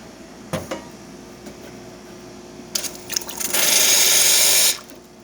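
Giotto espresso machine dispensing hot water into a container: a few faint clicks and short spurts, then a loud steady hiss and gush of water for about a second before it cuts off, no voices.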